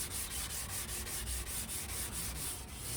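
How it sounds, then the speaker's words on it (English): Steady abrasive rubbing of sandpaper on a hazy plastic car headlight lens, a continuous close scratchy texture pulsing with quick back-and-forth strokes, with no talking. "just sand until it's fairly smooth"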